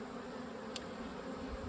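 Bees buzz around a horizontal Flow Hive in a faint, continuous drone with a single brief tick partway through; no voices.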